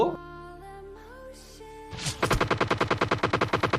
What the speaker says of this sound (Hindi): देख रहे हो ना कितनी दूर से कौन सी बंदूक चल रही है।